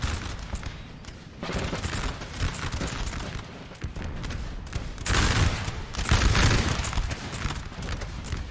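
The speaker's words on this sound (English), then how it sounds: "I love seeing the coalition shooting first." Musket volleys crackle and boom across a large Napoleonic battlefield in the strategy game Napoleon Total War 3, dense continuous fusillades that swell louder around the middle and later, with no speech over them.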